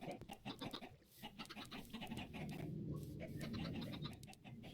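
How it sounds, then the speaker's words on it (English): Chickens cluck on a Minecraft chicken farm breeder in a video game, a busy layer of soft, repeated bird clucks and chirps at moderate distance, quite faint overall. "This here is our chicken farm."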